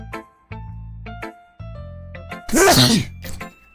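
A single loud, close sneeze bursts out sharply in the middle of a quiet game scene, with soft musical tones before and after it.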